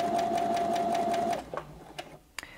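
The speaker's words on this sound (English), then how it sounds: "the sewing machine will only sew at the slowest speed" A Brother Innov-is 15 sewing machine stitches at its slowest speed, giving a rapid, even mechanical whir for over a second before stopping, then a few faint clicks and taps.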